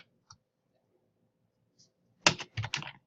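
Quick burst of computer keyboard typing as an address is entered, a few fast close keystroke clusters after near silence with a couple of faint clicks.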